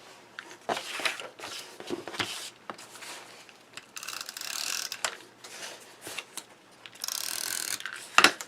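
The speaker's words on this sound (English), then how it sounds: "And use your tape runner." A tape runner rolls adhesive onto a folded slimline card, making a steady run of ratcheting, clicking and rolling mechanical noise in bursts, close and fairly loud, with no speech.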